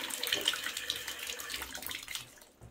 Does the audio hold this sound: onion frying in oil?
no